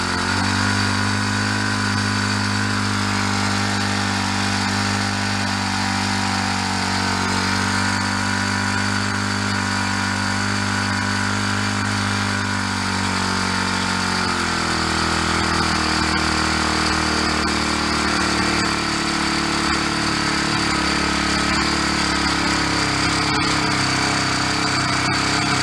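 A trash-picked four-stroke string trimmer engine idles loud and steady, its low-speed putter dropping to a slightly lower, slower idle about halfway through.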